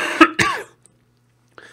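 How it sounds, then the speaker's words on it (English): A person with chronic fatigue syndrome gives two close, harsh coughs in quick succession, then silence and a faint short throat sound near the end. "you can see my cough is a lot worse than it normally is"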